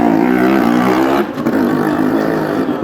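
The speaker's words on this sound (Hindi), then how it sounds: "मौत के कुएं में मोटरसाइकिल चला" A motorcycle circles inside a well of death stunt arena at a fair, its engine droning loud and close with a steady pitch that shifts partway through as the rider keeps going.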